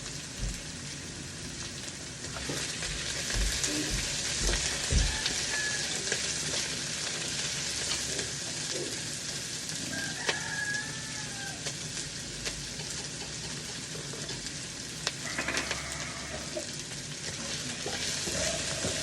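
Garlic and ginger sauté in a pan with papaya and chili leaves, giving a steady, close sizzle broken by occasional stirring scrapes and clinks, with no talking.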